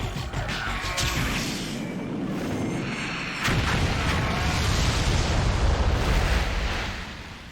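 An animated sci-fi series plays a bomb going off in a methane-filled cave: a long roaring blast that swells partway through into a heavier rumbling boom, loud and close, with no speech over it.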